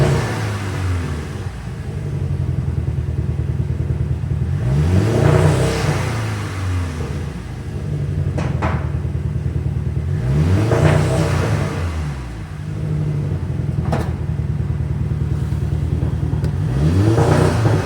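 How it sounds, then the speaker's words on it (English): VW Scirocco R engine misfiring badly on its stock tune, revved repeatedly in rising and falling sweeps over an uneven, stuttering idle, loud and close. "as you can hear, she is misfiring like mad"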